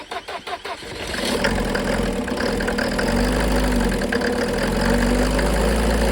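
A Mercedes OM601 2.2D diesel engine on a motor pump, running without glow plugs: a few rhythmic cranking chugs, then it catches and settles into a loud, steady close-up diesel rumble.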